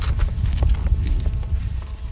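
Horse hooves clip-clopping at a walk during a riding lesson, a steady run of close, moderate hoofbeats over low rumbling background noise, with no voices.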